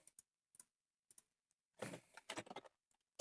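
Typing on a computer keyboard, quiet isolated key taps at first, then a quicker close cluster of clicking keystrokes before a final tap.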